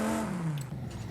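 An 8.4 litre V10 engine swapped into a 2023 Toyota Camry TRD in Forza Horizon 5 gives a brief, moderately loud rev whose droning pitch sinks as it settles.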